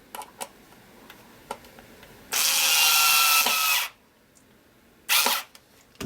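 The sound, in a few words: electric screwdriver running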